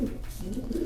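A two-month-old pigeon coos softly in a low, throaty purr, close and steady for under a second.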